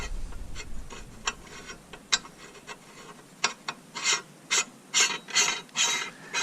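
A nut is turned onto a slightly rusty fish chum grinder with a series of ratcheting metallic clicks and rasps, sparse at first and then more rapid and louder toward the end.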